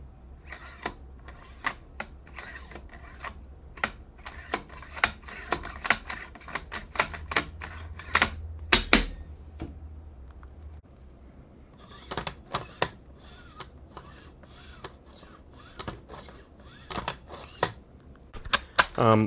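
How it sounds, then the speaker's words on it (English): Bolt of a Ruger American rifle worked back and forth in a run of sharp, close metallic clacks and slides, with a pause in the middle before several more crisp clicks. "Now you can still manipulate that bolt just like that."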